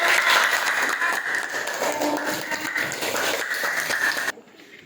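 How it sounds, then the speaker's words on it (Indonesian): Classroom applause after a group presentation: a close, fairly loud burst of many students clapping that holds steady for about four seconds and then stops abruptly. "Tepuk tangan untuk"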